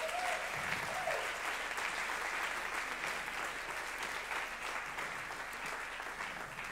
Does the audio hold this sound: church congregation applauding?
yes